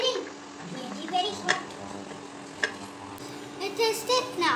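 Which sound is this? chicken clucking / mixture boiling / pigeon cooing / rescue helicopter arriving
mixture boiling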